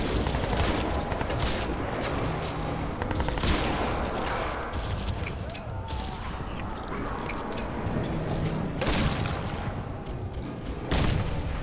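Sustained gunfire in the video game Crysis 2, continuous overlapping automatic shots with occasional heavier booms, loud and chaotic throughout.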